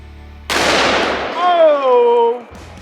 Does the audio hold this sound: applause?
no